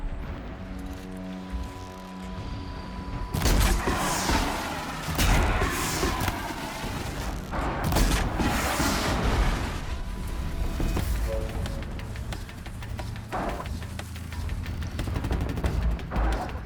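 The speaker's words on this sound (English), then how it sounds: "Explosions in the distance." Distant explosions rumble through the Horizon Zero Dawn game world: repeated booms and crackling bursts begin after a quiet opening and continue irregularly over steady background ambience, with no talking.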